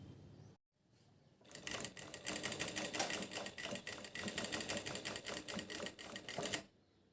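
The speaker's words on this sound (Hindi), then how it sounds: "सिलाई लगाने के बाद हम अपने नेक के किनारे किनारे पर एक सिलाई लगा देंगे।" A sewing machine stitches along the neckline of a kurti with gota work. After a brief quiet start and a short pause it runs in a fast, steady mechanical patter for about five seconds and then stops, close by with no talking.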